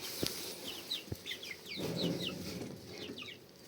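Chickens and roosters cluck and chatter in a busy run of short calls, with a couple of sharp knocks and a low murmur underneath.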